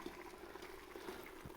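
Shrimp stock pours through a small strainer into a pot, a faint, steady liquid splash and trickle running throughout, low and close.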